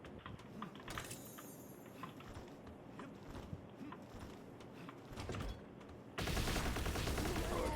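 Gunfire in a video game: rapid bursts and single shots crackle through a busy, layered game mix, with a louder, denser stretch of sound near the end.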